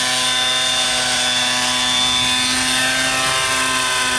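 A nitro-powered RC helicopter on its first flight gives off a loud, steady buzzing engine drone with a whirring rotor, close by and continuous throughout.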